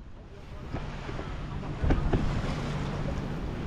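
A sailboat's engine running at sea off Ireland, a low steady motor hum under rushing wind noise and wave wash, with a brief thump partway through.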